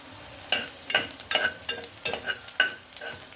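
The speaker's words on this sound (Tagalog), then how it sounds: "isasangag muna natin yung ating bawang" Garlic sautéing in a pan: a hiss of frying under repeated scraping strokes of a utensil, about five or six in a loose rhythm, close and fairly loud.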